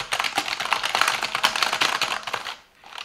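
A dense run of key presses on a Silvercrest gaming keyboard, fast and continuous, close and clear, ending in a brief quiet pause.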